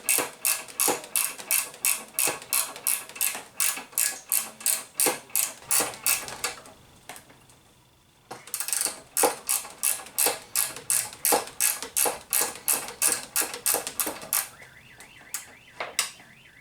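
A ratchet loosens the top bolt of the front shock on a BMW R1100 motorcycle, with rapid, crisp clicking in steady runs that break off briefly for a pause and then resume.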